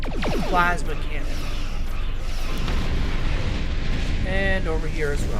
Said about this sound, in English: Plasma cannon.